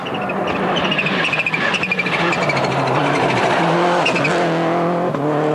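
Mäkinen's WRC rally car at the 2002 Monte Carlo Rally, its engine roaring loud and close as it climbs and drops in pitch through quick gear changes, with a continuous tire and road rush underneath.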